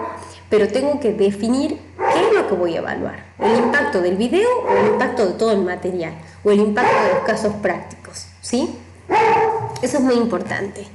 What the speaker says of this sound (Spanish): ese es mi perro, le pido disculpas.